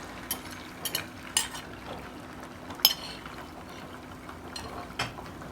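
Egg frying in vegetable oil in a pan over medium-high heat, a faint, soft sizzle broken by occasional light utensil taps and scrapes against the pan.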